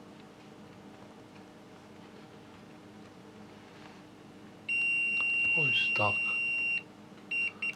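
A continuity tester gives a steady electronic beep for about two seconds while checking a shoe's metal shank, then two brief chirps, over a low hum, with a few soft words spoken before it.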